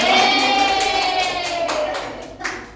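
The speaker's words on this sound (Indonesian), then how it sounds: "Tepuk tangan semuanya." A class of students claps together for a few seconds, a busy patter of hands that gradually fades, with a faint voice or tone ringing over it.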